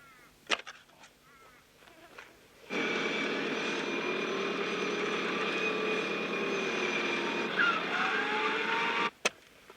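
Four-wheel drive vehicle in the outback pulling out of a bog, its engine suddenly revving hard and holding a loud, strained, steady roar for several seconds before cutting off abruptly, with a few knocks before and after.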